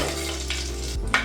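Dry red chillies dropped into hot oil for a tempering of Haal Saru, a steady close sizzle and crackle with a brief clink of a utensil near the end.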